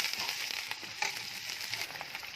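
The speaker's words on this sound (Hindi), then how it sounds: "चम्मच चलाते हुए 4 मिनट तक इसको भूनेंगे।" Garlic and ginger paste frying in a pan while a spoon stirs it, giving a soft, steady sizzle with faint crackles and light scraping taps, no voices.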